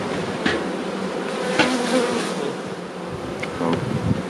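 Honey bees buzzing around an opened hive during summer honey harvest, a steady droning hum with individual bees zipping close past now and then.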